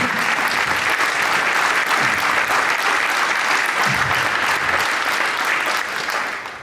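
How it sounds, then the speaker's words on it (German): Loud, dense audience applause in a hall during a mayor's swearing-in ceremony, sustained crowd clapping that stays even and close before easing slightly at the end. "Können wir mal zwischendurch auch mal klatschen."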